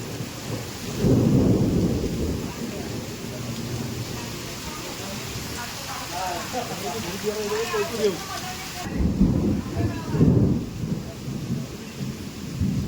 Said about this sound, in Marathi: विजा कसे कडकडत आहेत बघा.